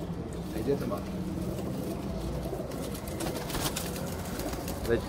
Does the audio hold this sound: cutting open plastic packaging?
no